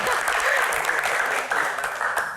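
Audience applause at a football Q&A event in Indonesia, steady dense clapping throughout, fairly close and sustained with no one speaking over it.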